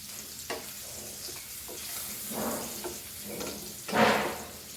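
Snake gourd bhaji frying in a pan with a steady sizzle, broken by scraping bursts as the vegetables are stirred, the loudest stir near the end, close up with no talking.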